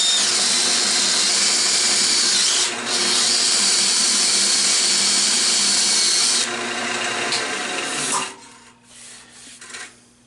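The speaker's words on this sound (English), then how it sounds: "I'm going to do it with the lathe running to start and see how it feels." A wood lathe spins a turning piece while a tool rubs against it, a loud continuous whirring scrape that cuts off near the end and leaves quieter tool handling.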